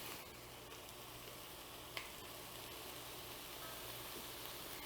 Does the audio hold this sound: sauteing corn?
yes